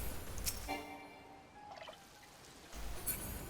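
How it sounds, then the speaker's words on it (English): Crops are watered in the game Final Fantasy XIV, producing a faint, soft pouring and trickling of water that lasts a few seconds, with light chime-like effects and no talk. "So I'll go ahead and water."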